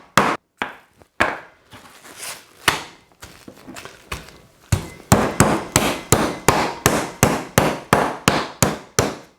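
A meat mallet pounds chicken breast flat on a board, sharp thudding strikes starting sparse and irregular, then settling into a fast, steady run of evenly spaced, loud, close blows.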